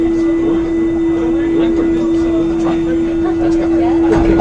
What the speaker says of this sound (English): this is your train pulling out